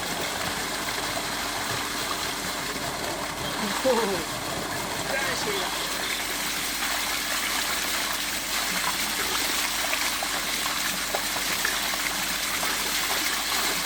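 Cool water flows steadily and close by in a village, a constant broadband rush that never lets up.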